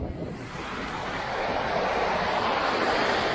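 Water pouring over the Weser weir, a steady broad rushing roar that swells slightly, heard alone with wind buffeting the microphone.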